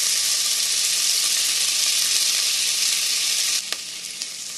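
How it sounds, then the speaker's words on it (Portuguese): Onion sizzles steadily in a hot pan, a dense continuous frying hiss with a few soft stirring clicks near the end. "Deixa a cebola dar uma dourada e depois coloca a costelinha."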